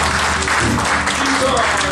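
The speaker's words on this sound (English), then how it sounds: "Would you give Sister Carrie a round of applause?" A church congregation claps for Sister Carrie at a worship service, a dense, loud, even wash of applause with a steady low hum and voices mixed beneath it.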